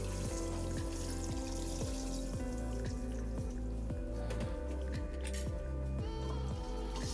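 Water pours steadily into a cooking pot to make the sauce for Tunisian seafood couscous, a continuous splashing stream with a regular pulsing rhythm, close and loud, with no talk.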